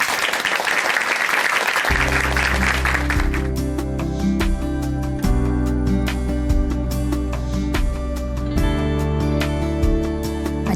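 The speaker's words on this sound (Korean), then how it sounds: "박수로 모십니다." A church audience claps to welcome a guest onto a television stage, loud applause for about two seconds before an upbeat musical backing takes over and continues to the end.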